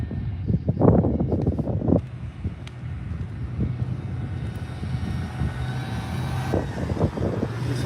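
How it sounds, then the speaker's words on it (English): White truck driving past with a steady low engine rumble that rises and swells, mixed with wind buffeting and a few nearby thumps at the start. "these engine sounds were syncing with him driving by me"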